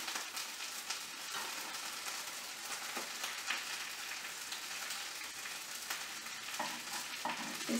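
A peanut butter, banana and bacon sandwich fries in a pan with a steady broadband sizzle and crackle, punctuated by a few scraping and clattering touches as it is turned, with no talking.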